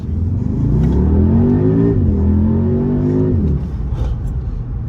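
An Audi SQ2 engine revs up hard from inside the car, pitch rising through a gear shift, then easing off into a lower rumble; no voices.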